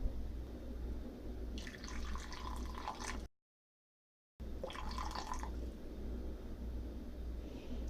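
Two-thirds of a cup of warm water poured into miso soup, a soft bubbling splash in two short bursts split by a brief silence, with a low background hum.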